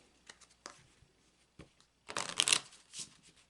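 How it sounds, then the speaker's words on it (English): Tarot cards shuffled in a few brief riffles, a soft flutter building to a louder, dense burst near the end, close and clear with no talking. "And now I'm going to shuffle these cards."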